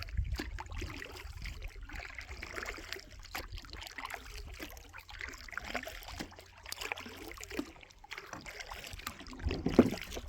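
Kayak paddle strokes dip and swirl through a small stream, with steady trickling water and gurgles running close by throughout, no voices.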